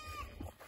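A rutting buck goat gives a short, low bleat close to the microphone, one brief nasal call lasting under a second with faint background noise.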